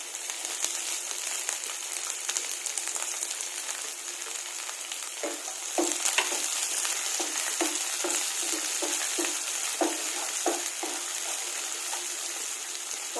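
Sliced onion frying in oil with crushed garlic gives off a steady hiss, with a run of soft stirring scrapes and taps starting midway, close and continuous, with no voices.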